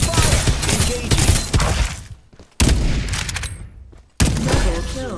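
Rapid gunfire in the battle game Farlight 84, loud dense bursts of automatic shots with sharp cracks, broken by two brief silent gaps before the firing resumes.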